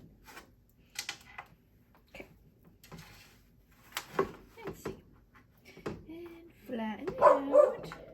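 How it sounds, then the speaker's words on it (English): A dog barks in a kitchen in short, sharp bursts scattered across the scene, mixed with clicks and taps, while a person talks briefly near the end. "And that's my dog barking."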